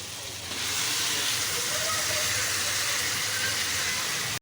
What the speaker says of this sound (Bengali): এবার দেখো, আমি এর মধ্যে মাংসটা দিয়ে দেবো।